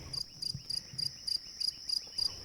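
Crickets chirp in a steady rhythmic pulse, about three bursts per second, with a bright sustained trill between pulses; they sound moderately near in a quiet natural setting with no voices.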